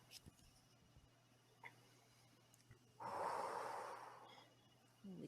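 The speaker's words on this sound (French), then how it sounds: "On expire bien pour libérer tout ce qu'on veut virer de 2018." A single long, deep exhale during a guided breathing exercise swells suddenly and fades over about two seconds, close and breathy against a quiet room, with a few faint ticks before it.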